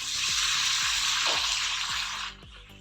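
Chopped green chillies hit hot oil in a pan with a loud, steady sizzle that holds for about two seconds, then drops off sharply as the frying quiets.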